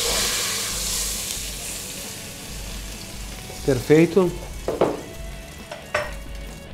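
Ossobuco browning in a pan sizzles steadily and close, with bursts of clattering utensil scrapes and louder spits partway through; a voice speaks briefly over the frying.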